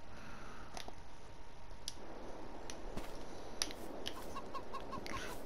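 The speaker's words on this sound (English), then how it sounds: "We shall nip over to the chickens and see how they're getting on." Chickens clucking in the Farming Simulator 22 game, faint scattered clucks and short calls over a steady low ambient hiss, no talk.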